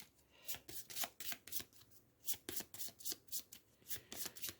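Close, crisp riffle shuffles of a Terror deck of cards for the Final Girl board game, a quick series of bright ruffling bursts in steady rhythm with no talking.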